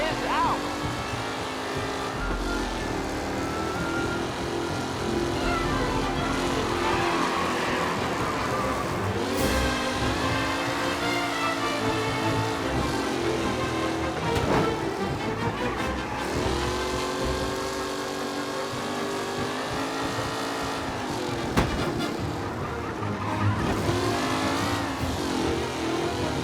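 Race cars roar past in a race in the video game Mafia: Definitive Edition, engines revving and whining continuously at high pitch as the pack speeds off, with a commentator talking over the racing.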